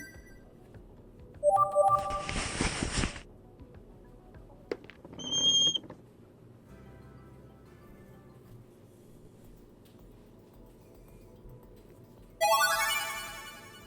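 A cell phone ringtone plays in the visual novel game 12Riven: short electronic melodic bursts of rising tones and chimes, separated by quiet gaps, loud and close with no talking.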